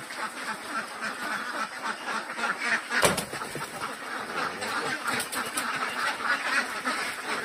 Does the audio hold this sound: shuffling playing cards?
no